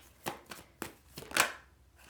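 Tarot cards being shuffled by hand, about five short crisp riffles at uneven intervals, close and fairly quiet with no talking.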